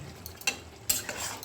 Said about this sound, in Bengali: ঘি দিয়ে ভালো করে নেড়ে নিলাম।